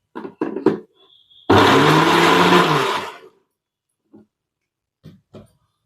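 A mixer grinder coarsely grinding a brinjal thokku paste, a loud whirring burst of about a second and a half that stops abruptly, with brief knocks and handling sounds before and after.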